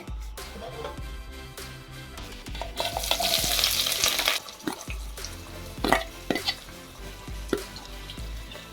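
Cumin seeds and chopped onions fry in hot oil in a pan, a steady close sizzle broken by scraping and stirring strokes of a spatula, with no talk over it.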